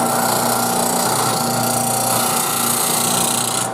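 Spindle gouge ground on a grinding wheel, a loud continuous steady whine of the spinning wheel with rough grinding texture, alone with no talk.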